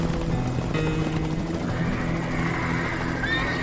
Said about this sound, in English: a brutal, hell-bent helicopter drive that terrifies these sensitive animals of prey